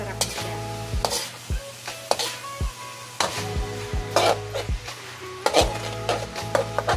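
Lasagna sauce being stirred in a pan on the stove, with a spoon scraping and clacking against the metal in a steady, repeated rhythm over a low continuous sizzle, close and fairly quiet, with no talking.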